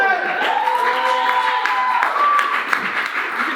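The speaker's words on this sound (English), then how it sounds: "Big round of applause for Austin!" Audience at a roast show breaking into applause and cheering, a full crowd of claps with whoops, while a voice talks over it early on.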